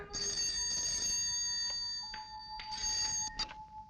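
Telephone ringing in a 1987 Hindi film scene, a bright electronic ring sounding in two repeated bursts with short pauses between, clear and close with no talking.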